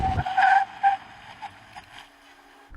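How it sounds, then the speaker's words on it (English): A BMW 530e hybrid brakes hard from speed, giving a short, loud tire screech that fades into a fainter tonal squeal as the car comes to a stop. "Now I'm going to hit the brakes hard."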